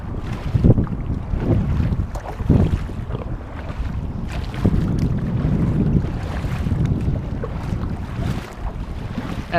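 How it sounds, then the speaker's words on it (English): An Ascend 128T kayak paddles across open water, with rhythmic paddle strokes and water swishes close by under steady wind rumble buffeting the microphone. "And I keep paddling like this over the summer."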